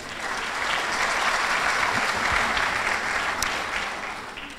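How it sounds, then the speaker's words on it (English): Auditorium audience at a chamber of commerce small business awards ceremony applauding, a dense steady wash of many hands that swells and fades gradually, sustained throughout with no talk over it. "So give yourselves a round of applause."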